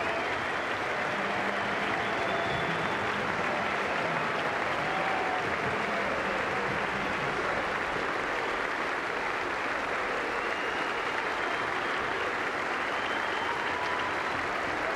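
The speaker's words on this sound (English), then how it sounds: "And he's getting a tremendous ovation from the crowd." Sustained applause from the cricket crowd at the SCG for VVS Laxman's Test century, a dense, steady ovation that carries on unbroken and fairly distant for the full fifteen seconds.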